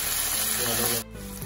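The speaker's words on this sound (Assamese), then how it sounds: "ধনিয়াখিনি মই ইয়াৰ লগতে ভাজি ল'ম" Coriander frying in hot oil gives a loud, dense sizzle for about a second, then drops off abruptly to a quieter crackle.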